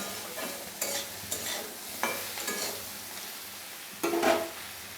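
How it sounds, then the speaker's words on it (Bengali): Pieces of kakrol (spiny gourd) frying in oil in a pan: a faint steady sizzle broken by several short scraping stirs, the last ones a little louder. "আমার কাঁকড়গুলো লাল লাল করে ভাজা হয়ে গেছে"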